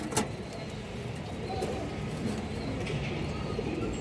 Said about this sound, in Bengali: সবুজ গলা নর কবুতর, খুবই ছটফটা কবুতর দর্শক